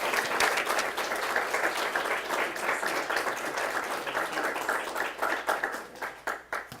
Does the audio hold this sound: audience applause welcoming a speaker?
yes